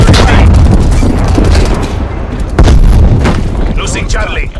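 Grenade explosions in Call of Duty Black Ops Cold War: loud booming blasts with rumbling tails, one early and another near the middle, mixed with game voices and battle noise.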